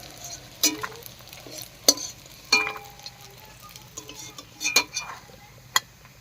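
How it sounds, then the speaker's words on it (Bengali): Pumpkin leaf fritters fry in oil with a low sizzle, while a utensil clinks and scrapes against the pan in several sharp, separate knocks. "কুমড়ো পাতা সব বড়াগুলো ভেজে নিয়েছি"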